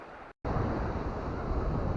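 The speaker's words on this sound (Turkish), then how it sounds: "Çok rüzgarla dalga çıktı." Strong wind buffeting the microphone with surf breaking at a sea shore in Mersin on a stormy day, a loud continuous roar interrupted briefly by a short dropout.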